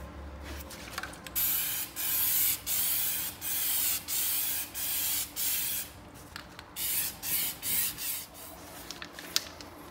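Rock guard coating hisses from a spray can onto a John Deere 42-inch lawn tractor mower deck in a steady series of about a dozen short, even bursts with brief pauses between, close and clear with no talking.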